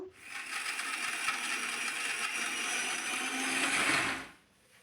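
Mixer grinder whirring steadily as it blends sesame seeds, jaggery, cardamom and a little water into a fine paste, a loud continuous motor roar lasting about four seconds before cutting off.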